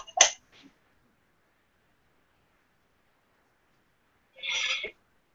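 A single sharp human sneeze up close, a brief burst followed by a short trailing breath, then a long silence before a second short, tonal vocal burst.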